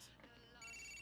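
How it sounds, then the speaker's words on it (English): A phone rings inside Grand Theft Auto IV, its steady electronic ringtone tones starting partway through and holding loud to the end, with game audio beneath. "The phone's ringing."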